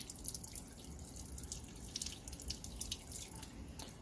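Water trickles and drips while rinsing the inside of a nylon 6,10 polymer mass on a glass test tube in a chemistry lab, a faint, steady patter of small splashes close by without voices.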